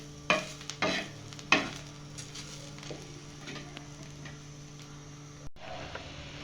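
Onion and garlic masala fries in a pan with a soft, steady sizzle. A few close scraping stirs rise above it at the start, then the sizzle goes on quietly alone.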